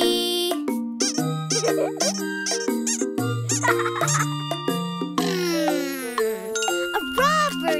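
Squeaky rubber duck toy squeezed again and again, giving a rapid series of bright, honking squeaks with chiming musical notes, loud and close in a children's nursery-rhyme setting.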